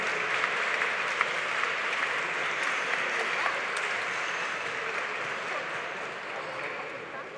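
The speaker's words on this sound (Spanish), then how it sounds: "Un fuerte aplauso a este panel, pues, se lo merecen." Sustained audience applause for a panel at a university magazine launch ceremony, steady and fairly loud throughout, with dense clapping from a large crowd that tapers slightly near the end.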